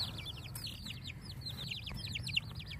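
Baby Easter Egger chicks peep in a rapid stream of high, repeated chirps, close by over a low indoor hum.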